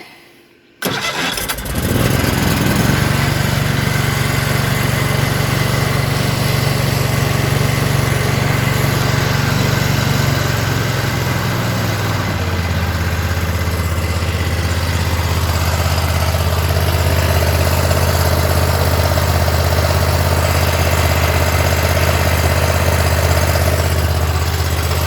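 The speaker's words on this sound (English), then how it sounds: "we're going to fire it up, check for leaks." A Kohler Confidant ZT740 engine on a Bad Boy Maverick zero-turn mower is started on a little choke. It fires quickly and runs at a loud, steady idle that drops to a lower, smoother note midway through.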